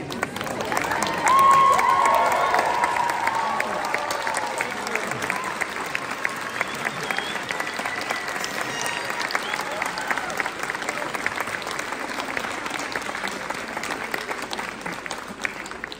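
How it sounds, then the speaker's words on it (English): A graduation ceremony audience for a University of Minnesota Medical Laboratory Sciences class applauds graduates' families and friends, sustained dense clapping from a large crowd that peaks early then continues steadily, with faint cheers mixed in. "please rise so that we can applaud you for your significant contributions to our graduates"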